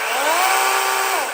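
A Dewalt 12-inch electric chainsaw runs steadily at close range, giving a continuous high-pitched whine that rises slightly and then holds, loud and unbroken throughout.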